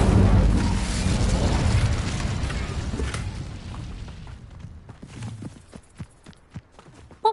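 A fire spell cast in a Harry Potter video game sets off a loud whooshing, roaring blaze that slowly fades, followed by scattered sharp crackles and thuds, with no talking.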